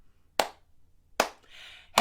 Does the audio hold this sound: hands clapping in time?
yes